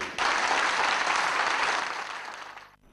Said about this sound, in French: Alors je vais vous demander de vous lever et d'applaudir le distingué camarade Ali Bongo Ondimba.